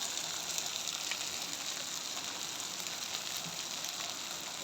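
Biryani masala being sautéed in a pan gives off a steady, even sizzle of frying, moderately quiet and continuous, with no talk over it.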